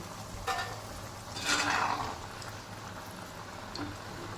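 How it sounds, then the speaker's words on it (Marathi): Shankarpali dough pieces fry in hot oil in a wok, a soft steady sizzle with a few brief stirring scrapes, faint and close with no talking. "आपण आता शंकरपाळ्या फ्राय करण्यासाठी टाकतोय"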